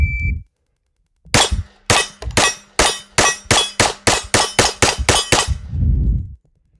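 1911 pistol in .45 ACP fired in a quick string of about fourteen sharp shots on steel targets, evenly spaced and loud, most ringing with a short metallic ding, after a brief electronic start beep.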